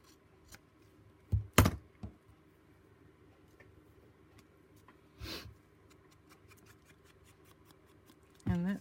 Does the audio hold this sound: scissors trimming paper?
yes